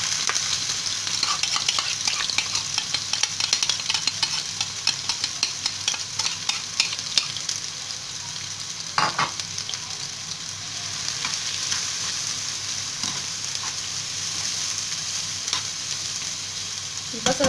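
Onion frying in a pan for spinach with eggs gives a steady, close sizzle with a few scraping stirs of a utensil. No one speaks.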